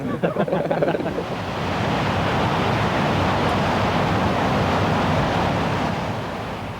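Pacific Ocean surf on the Oregon coast south of Astoria, a steady rushing roar of breaking waves with wind buffeting the microphone, loud and continuous after a brief rougher start.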